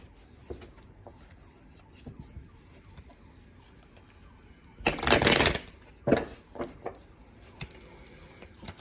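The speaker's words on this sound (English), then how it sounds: "We're going to give this current deck a good shuffle." Quiet rustling and handling noises, then a loud riffle of cards shuffling for about a second, followed by a few softer card snaps and taps.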